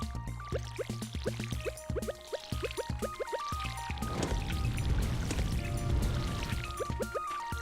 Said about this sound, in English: Yeah, we do have a lot of crops to water.